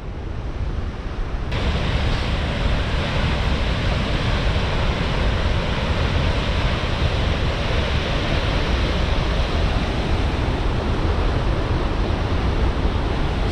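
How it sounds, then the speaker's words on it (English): A big waterfall with a huge drop roars in a steady, dense, unbroken wash of rushing water from close by, filling the clip from start to finish with no voices. "Big old waterfall."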